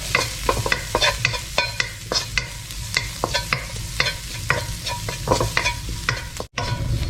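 Garlic and coriander root stir-fry in a pan with leftover oil from fried fish, giving a soft sizzle under repeated sharp scrapes and clacks of a spatula in an irregular rhythm, close and alone.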